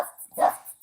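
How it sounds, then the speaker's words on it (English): A dog barks nearby, a few short yelps with a whimpering edge set over light background noise, all within a brief moment. "Puppy, what are you barking at?"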